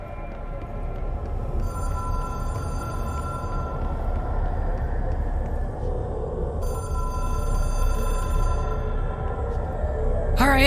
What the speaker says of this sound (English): let's pick up our phone call.